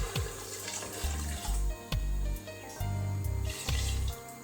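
Water is poured from a container into a cooking pot for Jamaican stew peas in several short splashing pours, close and fairly quiet, with no talk.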